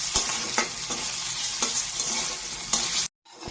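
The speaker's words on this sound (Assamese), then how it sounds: "দালিৰ বৰাখিনি ফ্ৰাই কৰিম" Dal bori lentil dumplings sizzle steadily in hot oil, broken by repeated scraping stirs of a utensil in the pan, close and continuous, then a sudden brief cut near the end.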